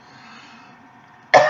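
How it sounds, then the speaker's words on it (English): A single abrupt adult cough bursts out at the end after a quiet, low hum of room tone. "As my coughing indicates"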